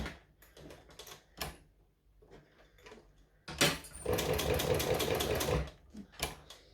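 A sewing machine stitches a strap in a steady, fairly loud run of rapid mechanical beats for a couple of seconds, framed by scattered clicks and handling knocks before and after.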